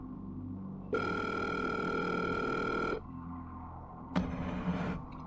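A telephone call tone on a 1990 911 police emergency line sounds twice, a long steady buzzing tone followed after a pause by a shorter one, faint and alone over a low hiss.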